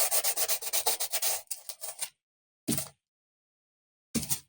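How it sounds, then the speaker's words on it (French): Sandpaper rubbing by hand on a Renault Twingo Initiale interior part, a quick run of rhythmic close strokes followed by a few slower isolated passes separated by silence. "poncer"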